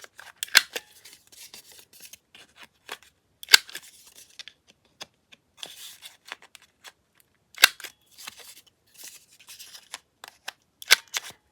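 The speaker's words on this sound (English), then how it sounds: "We might go ahead and snip these corners." Scissors snipping the corners of paper book page pockets, a series of crisp, close cuts spaced irregularly with quiet pauses between, some coming in quick pairs.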